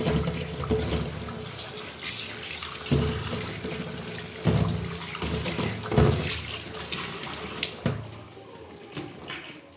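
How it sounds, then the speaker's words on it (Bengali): Tap water runs steadily over fresh green chillies being rinsed in a kitchen sink, a continuous close splashing stream with small shifts as the chillies are moved under it, no talking. "লঙ্কার চপ ফার্স্টে এখানে ধুয়ে নেবো আগে ভালো করে"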